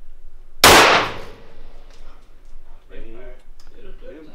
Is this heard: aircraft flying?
no